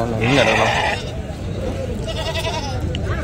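Goats bleat amid a busy Saturday sheep and goat market at Angallu, with a loud bleat early on and more crowd noise and voices chattering around the animals.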